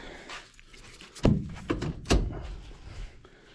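A couple of solid thunks and a latch-like clunk as a car trunk lid is released and opened, over a low background rumble.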